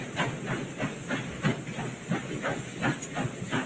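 Steam train in a video game hissing steadily, a broad continuous rush of steam with faint rhythmic pulses like slow chuffing beneath it, moderately loud and even throughout.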